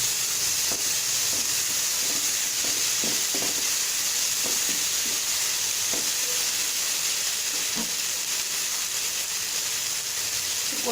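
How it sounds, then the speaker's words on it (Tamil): Tomatoes dropped into a hot frying pan with ginger-garlic paste hiss and sizzle loudly and continuously, steamy bubbling broken by occasional scraping stirs, for a flattened-rice vegetable biryani. "தக்காளி போடுறேன்"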